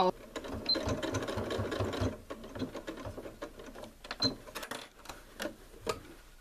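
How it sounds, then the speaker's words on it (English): A sewing machine running a short back stitch at the end of a seam on an accent pillow, a close, rapid mechanical patter that stops and starts, moderately loud with no talking. "I'm at the end, so I'm also going to do a little back stitch"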